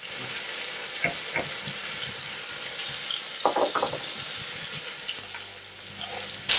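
Duck fillets sear in butter in a hot pan, giving a steady close sizzle with brief crackles and spits throughout and a sharper hiss near the end.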